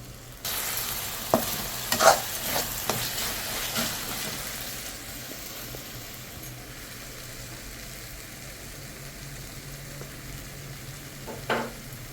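Paste for goat intestine gravy is stirred and fried in a pan: steady sizzling with scraping, clattering stir strokes, busiest early and again near the end, with no talking.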